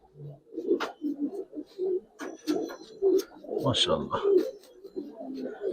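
Giribaz and coloring pigeons coo repeatedly in low, throaty bursts close by, with human voices talking over and between the calls throughout.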